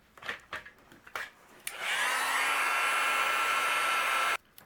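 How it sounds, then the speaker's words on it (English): A heat gun melts white embossing powder on a butterfly shaker card, a steady close whooshing blast of hot air that runs unbroken for about three seconds after a few light taps and handling sounds. "with my heat gun"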